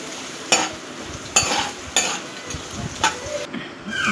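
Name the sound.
onions frying with biryani spices in a pan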